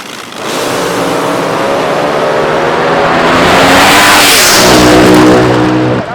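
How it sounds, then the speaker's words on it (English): An AA/Fuel dragster at a nighttime drag strip event, its engine pounding loudly and revving up, a sustained, powerful roar that swells toward the end before cutting off. "Hester's car is pounding the air down here on the right side."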